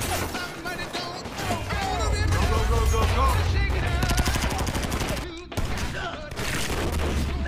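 Machine guns open up in a film firefight on a toll road, with dense, rapid bursts of automatic fire and loud booming impacts layered over music, plus a tight rattling volley near the end, all under continuous narration.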